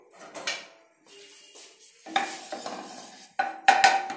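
Hot oil in a pan, ready for chicken manchurian, sizzles in uneven bursts, with clinks and scrapes of a utensil against the pan between louder spells.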